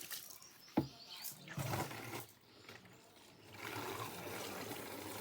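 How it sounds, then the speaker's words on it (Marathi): Cold well water splashing and trickling as a bottle is rinsed, faint uneven pouring and gurgling with a sharp knock near the start and rushing flow toward the end. "थोडी बॉटल धुवून घेतो."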